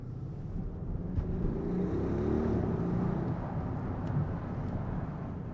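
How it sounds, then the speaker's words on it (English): Audi RSQ8 V8 engine heard from inside the cabin through an open window, a low steady rumble with mild swells under road and wind noise, moderate in level and not especially loud. "You are not hearing a huge amount of V8 noise. It's a very nice noise"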